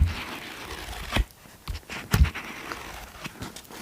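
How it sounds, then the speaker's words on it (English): Dense paper pages of a book are turned up close in a quiet room, giving soft crinkling rustles with a few sharper flips and papery swishes. "some denser page sounds"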